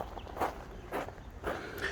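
Footsteps crunch over noisy, loose ground outdoors in a village by the Sea of Galilee, with three or four steady, fairly quiet steps and no talking.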